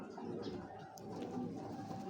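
Racing pigeon, a young male homer bred for flying, cooing softly and close by in a quiet room, with faint background murmur.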